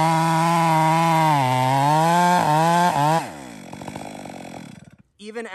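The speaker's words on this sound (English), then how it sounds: "I'm just gonna cut the holding wood off." A chainsaw cuts through the holding wood of a small tree stub, the engine screaming loud and close, bogging slightly, then dropping to a rough idle before sputtering out briefly and catching again.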